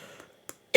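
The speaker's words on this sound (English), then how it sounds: "It's a nasty cough." A nasty cough bursts out once, loud and close, at the end, after a quiet stretch with a couple of small breaths or throat sounds.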